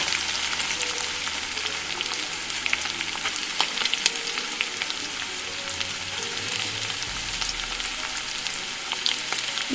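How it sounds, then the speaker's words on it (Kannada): Onions frying in oil for a home-style junka curry, a steady dense sizzle with scattered crackles and pops, close and continuous, no voices. "ಚೆನ್ನಾಗಿ ಎಣ್ಣೆಯಲ್ಲಿ ಫ್ರೈ ಆಗಲಿ ಸ್ನೇಹಿತರೆ."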